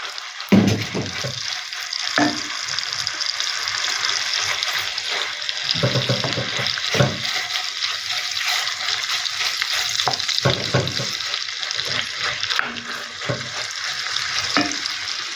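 Marinated beef sizzles in melted butter in a close, steady wash of frying noise, punctuated by irregular clinks and scrapes of a spatula against the pan, with no talking.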